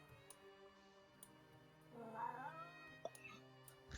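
During a tabletop role-playing game session, a person's voice imitates a cat's meow, a short mewing call in the middle of the clip over a steady background hum and faint ticks.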